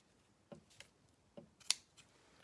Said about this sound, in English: Now I just need to trim out our edges.